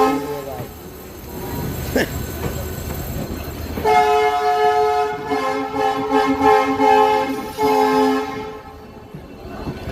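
A passing train sounds its horn in long sustained tonal blasts over the rumble and rattle of rail cars, loud and close, with the horn growing stronger midway and continuing to the end.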